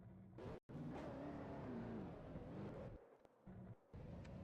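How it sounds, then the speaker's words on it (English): Race car engines roar and rev in the NR2003 racing game, a dense growl with rising pitch sweeps, briefly cutting out and dropping to a fainter idle between bursts. "Drivers, start your engines!"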